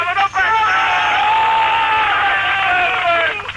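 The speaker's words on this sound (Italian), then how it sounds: "vogliamo fare un applauso?" Crowd at an Italian wrestling show bursts into sustained cheering and applause with whoops and shouts, loud and continuous throughout.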